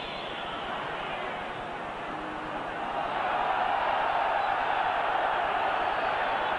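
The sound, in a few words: stadium crowd cheering at a football match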